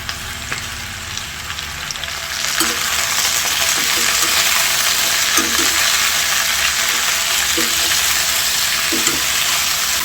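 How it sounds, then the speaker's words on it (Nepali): Bayar jujube fruit fries slowly over a low flame, giving a steady close sizzle that swells after a quiet start, with occasional soft scrapes from stirring. "त्यही भएर यसलाई नफुट्ने गरी बिस्तारो सानो आँचमा भुट्नुपर्ने हुन्छ।"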